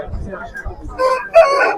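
A rooster crows at a poultry market in Sabunchu, a loud, close cock-a-doodle-doo rising at the end, preceded by low clucking and market murmur.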